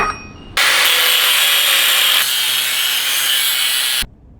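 A welded piece is cut off coilover brackets for a custom shifter on a Datsun, a loud, continuous, harsh cutting noise lasting about three and a half seconds, close and alone.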